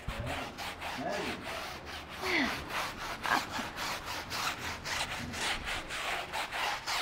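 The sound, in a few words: scrubbing a dirty tire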